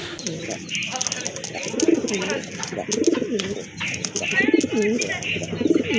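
A pair of deep red pigeons coo in repeated rolling phrases, close and steady, while people talk in the background.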